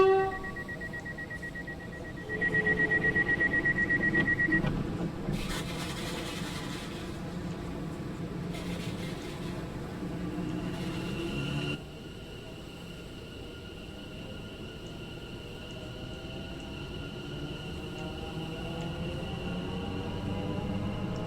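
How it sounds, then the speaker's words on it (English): Class 710 TfL electric train running from Watford Junction toward London Euston in Train Sim World 5, a steady low cab rumble with a brief tonal horn-like note early on and bursts of rolling rail noise. "The sound of this train is also good one."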